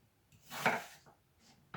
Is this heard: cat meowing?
no